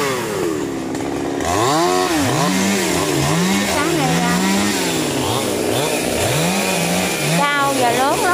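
A chainsaw revs up and down repeatedly as it bites into a tall tree about 20 metres high, its engine pitch rising and falling in loud surges while someone speaks briefly in Vietnamese.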